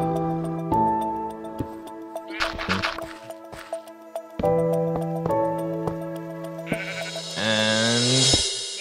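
Sheep on a video-game sheep farm bleat several times in short, loud calls over steady tonal game music with ticking sounds, with no voices in between.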